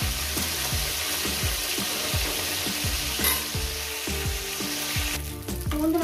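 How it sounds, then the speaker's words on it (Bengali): Fish frying in a pan gives off a steady, close, crackling sizzle, punctuated by regular soft taps and clicks throughout, with no voices. "বন্ধুরা মাছটা আমার ভাজা হয়ে গেছে।"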